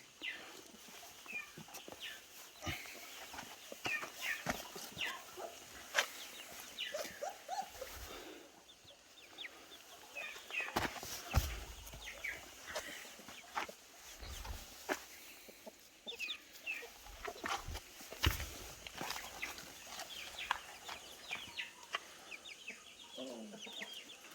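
Soft peeping and clucking of chicks continues throughout, with scattered rustles and light movement sounds nearby as Kangal puppies meet them.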